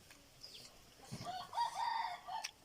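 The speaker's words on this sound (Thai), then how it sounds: "ไก่ก็จะหากินตามหลังบ้านนะครับ ก็จะมีเสียงไก่หันครับ" Free-ranging backyard chickens in a Thai home garden cluck softly, and a distant rooster crows one long call, all faint and far off against a quiet outdoor background.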